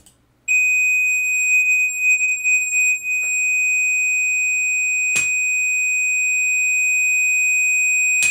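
A steady 1000 Hz test tone played through an audio device, clean and continuous for about eight seconds after a brief silence, with a faint click midway and a sharp tick near the end.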